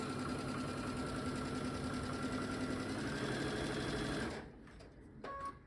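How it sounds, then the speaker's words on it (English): Sewing machine running steadily as it stitches a long quarter-inch seam along a fabric strip, an even close whirring hum that stops abruptly near the end, followed by a few quiet handling sounds. "I'm going to sew a very long seam with a perfect 1/4 inch seam"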